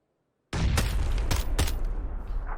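Grenade blasts in the battle royale game PUBG: after a brief silence a loud explosion erupts, followed by several more sharp bangs and rumbling echoes close by.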